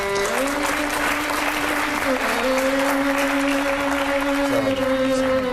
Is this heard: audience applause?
yes